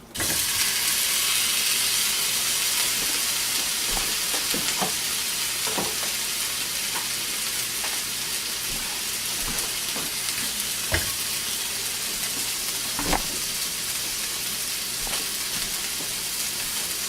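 Chili ingredients sizzle steadily in a pan, a continuous close frying hiss with occasional sharp pops and stirring clicks, no voices.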